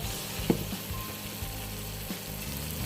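Butter sizzling and melting in a hot pan for a rum sauce, a continuous soft hiss with a couple of small utensil taps; quiet and close, no talking.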